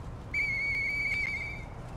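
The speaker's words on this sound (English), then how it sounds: "I know that whistle. It must be Murphy." A clear sustained whistle from a character in the video game Lies of P, one steady tone held for about a second and a half, loud and alone.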